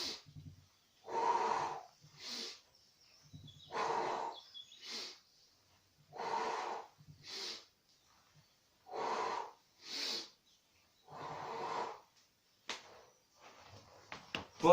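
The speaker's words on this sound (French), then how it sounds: "J'inspire." Slow, deliberate breaths during a Pilates stretch: six or so long airy inhalations and exhalations in a steady alternating rhythm, close and clear with silent gaps between them, nobody speaking.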